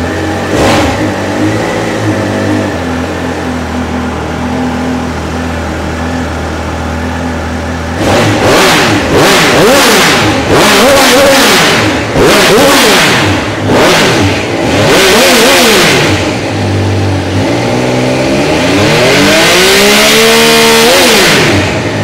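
A 2022 Triumph Speedmaster motorcycle engine idles steadily and loudly, then is revved hard again and again in rising and falling bursts, close up with no talking.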